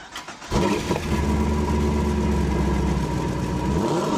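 A car engine turns over and catches after half a second, then settles into a steady, loud idle close by, with no talk over it.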